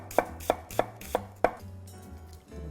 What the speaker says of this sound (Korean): 있으시면 적양파 쓰시고 없으시면 그냥 양파 써시면 됩니다. 그래서 이것도 얇게 썰어주시면 돼요